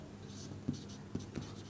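Pen or chalk writing out a binomial expansion during a higher math lesson on Pascal's triangle, faint scratchy strokes with a few light taps over a low steady background hum.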